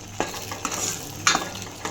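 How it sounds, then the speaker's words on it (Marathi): Masala gravy sautés in hot oil in a pan with a steady soft sizzle, as a spoon stirs and scrapes the pan in several distinct strokes close by. "मसाल्याची ग्रेव्ही. तर छान अशी मी आता परतून घेते."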